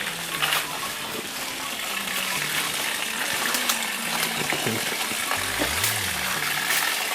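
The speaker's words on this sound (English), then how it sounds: "So it's a stream that runs through the caves." An underground stream inside the ancestral bat caves of Nframabuom that once served as drinking water, a loud continuous gushing rush with voices talking over it and faint tonal sounds mixed in.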